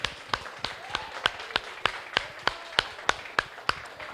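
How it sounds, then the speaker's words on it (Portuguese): A church congregation in Santo André claps together in a steady, even rhythm, about three claps per second, moderately distant with faint murmuring beneath. "Uma salva de palmas ao Senhor Jesus, amém."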